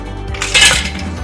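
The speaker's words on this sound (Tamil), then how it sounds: "இதுல ஐஸ் கியூப்ஸ் ஆட் பண்ணிக்கலாம்." A short, bright clatter of ice cubes tumbling into a mixer jar, loud and close, with a brief rattle that fades quickly.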